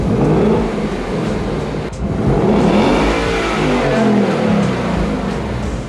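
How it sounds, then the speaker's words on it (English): A 2017 Ford Mustang GT 5.0 V8 on its stock OEM exhaust revs hard and close, the engine note climbing and dipping through a few throttle blips with a steady rumble underneath. "we're going to film it with OEM exhaust real quick before we forget"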